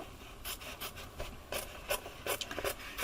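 Scissors cut a strip of denim fabric in short, crisp snips, a series of quiet rasping cuts close to the microphone.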